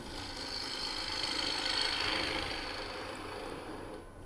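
Spindle gouge cutting into a turning wooden wig stand on a lathe, giving a steady, fairly quiet scraping hiss with a low motor hum underneath and no talk.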